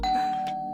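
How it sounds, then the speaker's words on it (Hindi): A doorbell rings with a sustained electronic chime tone, loud and close, holding steady for under a second with no talk over it. "जिंदगी में पहली बार इतना मजा आ रहा है डोरबेल बजने से"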